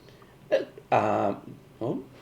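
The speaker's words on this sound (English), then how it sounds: "It gives you the hiccups." Three short involuntary hiccups from a man, each a brief voiced catch, the middle one longer and louder, spaced irregularly in an otherwise quiet room.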